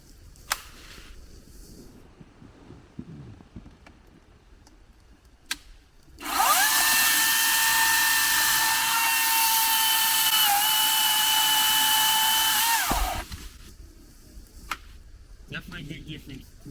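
A battery-powered top-handle chainsaw, a Stihl, whines loudly and steadily through a snap cut in wood for about seven seconds, with quieter handling noises before and after.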